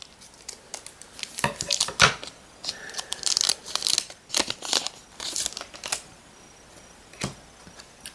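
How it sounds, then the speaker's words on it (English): A Japanese Pokémon Dragon Selection booster pack wrapper is torn and crinkled open up close, with a string of sharp plastic rips and rustles of varying loudness. "It's been a while since I've opened up packs"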